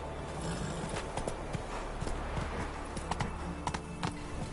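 Hooves of Roach, the horse in The Witcher 3, pound in a fast galloping rhythm, close and steady throughout with no talking.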